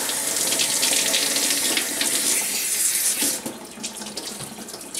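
Tap water pours steadily and loudly, close by, as shampoo is rinsed off a Yorkie's back during a bath. The flow briefly softens partway through before continuing.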